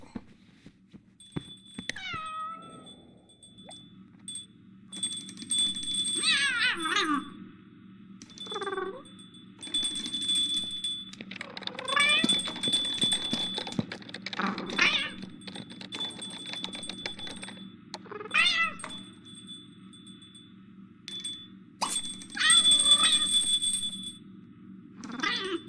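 A pet cat in The Sims 2 meows repeatedly, with loud close cries spread over the stretch, set against a steady low hum and scattered clicks from the game.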